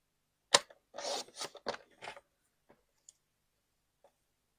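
Paper trimmed to size for card making on a craft trimmer, a burst of close sliding, rasping cuts followed by a few soft, isolated ticks and clicks as the blade and offcuts settle.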